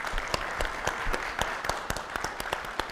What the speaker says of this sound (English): I think we should give him a little bit of applause for all his work.